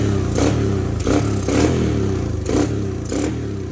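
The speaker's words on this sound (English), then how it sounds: "After installing a new carburetor, the bike started right up." A dirt bike engine running on a freshly installed carburetor, revving in short repeated bursts that swell and drop back to a rough, clattery idle, close by and with no talking.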